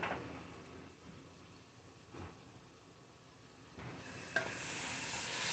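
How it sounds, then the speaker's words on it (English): 80/20 ground beef frying in a pot for chili, a steady close sizzle with occasional stirring scrapes and a brief clink near the end. "Now you see how it's frying? I use the 80/20 ground beef"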